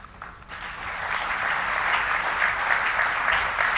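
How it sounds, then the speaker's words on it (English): An audience at a humanitarian awards ceremony applauds a medal recipient, the clapping swelling from a ragged start into a full, steady roar of many hands that carries on to the end. "Sunitha, please accept this applause and take your seat in the chair with your medal"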